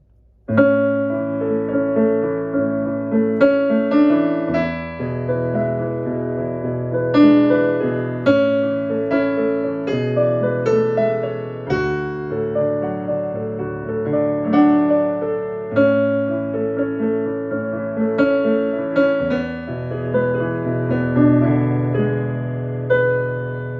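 A piano plays a flowing melody with extra filler notes woven between the main phrases, steady and continuous with chords underneath, no voices.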